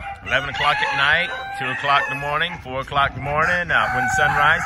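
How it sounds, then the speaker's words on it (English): Roosters crow repeatedly in San Isidro de El General, Costa Rica, in long, drawn-out calls that overlap one another, with someone talking throughout. "you get to hear the roosters crowing."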